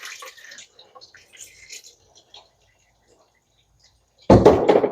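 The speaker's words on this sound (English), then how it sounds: "I'm going to have to drop it into this pool of oil, and it's probably going to splash oil on my beautiful brunt work pants" An oil filter from a 2017 Dodge Durango R/T drops into a pool of drained oil, a sudden close splash at the end after quiet moments and faint scattered clinks.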